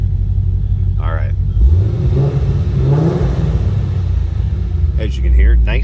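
A 2010 Chevrolet Camaro SS SLP ZL575 coupe revs its exhaust in deep, rumbling bursts, rising and falling several times with a throaty growl, close and loud, while someone talks over it.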